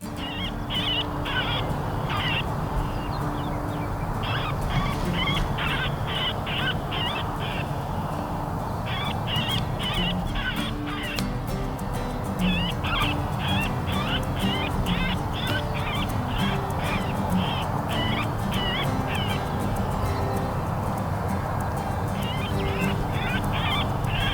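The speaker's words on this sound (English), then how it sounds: "We start out with the woodpecker in distress." Woodpecker distress call played through a predator caller on a coyote hunt: harsh, repeated squawking bursts come in quick series with short gaps, loud and steady over a constant outdoor background hum, with no talking.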